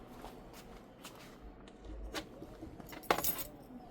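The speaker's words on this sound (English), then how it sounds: "let me find my keys" A bunch of keys jangling while being searched for, giving soft metallic clinks that build into a brighter rattle near the end, close and fairly quiet.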